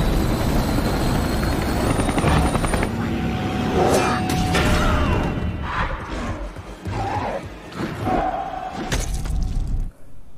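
A helicopter in a zombie action scene from the film Army of the Dead: a dense, continuous rotor roar mixed with crashes and booming impacts that fades out abruptly near the end.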